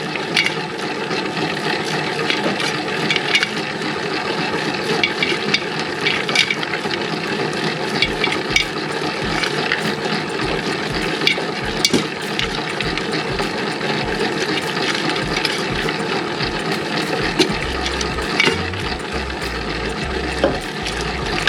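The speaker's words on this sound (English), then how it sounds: "I'll just turn it down a bit while it crushes that ice up." A steady, loud grinding whir with rattling crunches running throughout, a blender crushing ice for pizza dough water, continuous with no voices.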